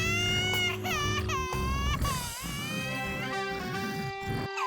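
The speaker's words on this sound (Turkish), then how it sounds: "Neden ağlıyor bu?" A cartoon baby, woken by snoring, cries loudly in wailing, rising and falling sobs that carry on throughout with short breaks for breath.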